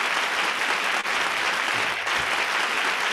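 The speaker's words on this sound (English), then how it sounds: "Wow, the crowd roars." Premiere audience at an all-star virtual show cheering and applauding continuously, a dense, loud wash of clapping that stays steady throughout with no voices standing out.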